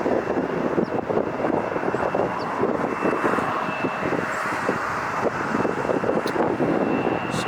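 A Delta Boeing 757 jet at LAX gives off a steady, broad engine roar with a faint high whine, constant in level throughout, heard outdoors from a distance with some wind buffeting and no speech.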